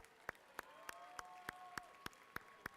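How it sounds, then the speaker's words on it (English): An audience at a FIRST robotics district event applauds, a steady crowd of clapping holding at moderate level for the whole stretch, with sharp regular percussive hits cutting through it and a faint tone drifting underneath. "please join me in another round of applause for the people in blue"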